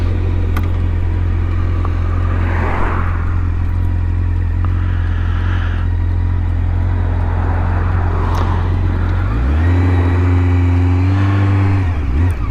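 A 2005 Triumph Daytona 650 sport bike hums loud and close at steady speed, then its engine note swings up into a rising, then levelling, rev near the end.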